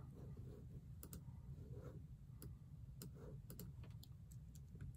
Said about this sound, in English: I'm just gonna type in eBay.